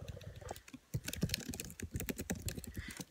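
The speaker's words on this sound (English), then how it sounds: "I'm typing this in as we talk." Fast typing on a computer keyboard, dense irregular key clicks and clacks close by, with a few sharper louder strokes, steady throughout with no talking.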